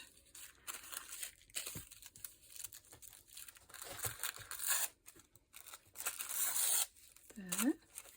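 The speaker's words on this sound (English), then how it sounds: "I'll rip a little bit off there" A vintage book page tears by hand in a series of short crinkling rips, close and quiet, with soft paper rustles in between and a person talking.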